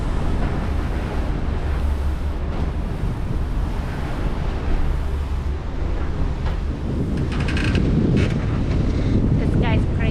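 A boat motoring into the wind on a choppy, bouncy crossing aboard a Lagoon 56 catamaran bound for the Bahamas, with loud continuous wind buffeting over rushing water and a low engine drone, steady throughout.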